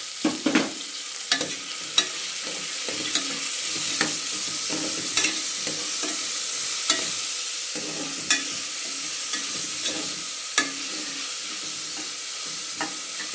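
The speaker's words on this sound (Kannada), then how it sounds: "ಕಾಳು ಸ್ವಲ್ಪ ಎಣ್ಣೆಯಲ್ಲಿ ಫ್ರೈ ಆಗಲಿ" Avarekalu beans fry in oil with tomato, giving a steady close sizzle broken by regular spatula scrapes and taps against the pan.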